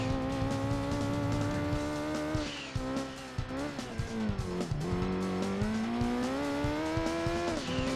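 A rally car in Gran Turismo 2 drives through a tunnel on a Smokey Mountain or Green Forest rally stage, its engine droning loudly with rising and falling revs between gear changes, and brief tire scrabbles along the way.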